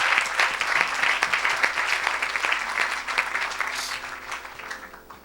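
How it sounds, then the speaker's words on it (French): Church congregation applauding and cheering for Jesus during a service, a dense sustained wash of clapping that stays loud throughout and fades slightly near the end. "acclame pour Jésus"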